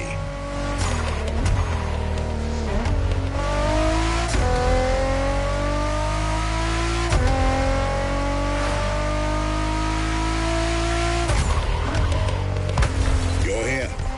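Ferrari F40 and F50 engines in The Crew Motorfest racing game rev hard and continuously, climbing through repeated upshifts with brief dips between gears, loud and close, under a spoken voice.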